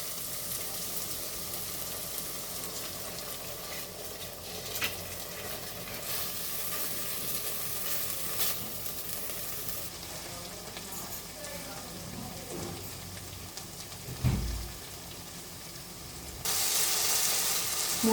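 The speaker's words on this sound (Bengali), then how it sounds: "মশলাটা কষানো হয়ে গেছে," Cashew, yogurt, charmagaz melon seeds and poppy seed paste fry into a spice paste for chicken-stuffed potato dum, giving a steady low sizzle with faint stirring scrapes, brief clatter near the end and a louder hiss in the final seconds.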